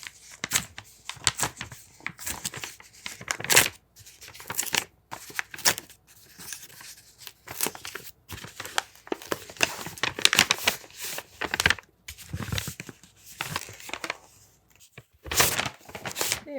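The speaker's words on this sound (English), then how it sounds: "this one is like taped. I have to open it upside down." A taped mail package being torn open upside down, with irregular ripping, crinkling and rustling bursts of tape and paper, close and fairly loud throughout.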